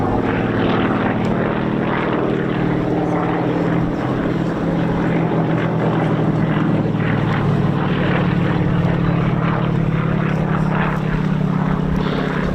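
Piston-engined World War II aircraft, a de Havilland Mosquito and an Avro Lancaster, flying at an airshow at East Kirkby, their steady loud propeller drone continuing throughout without a break.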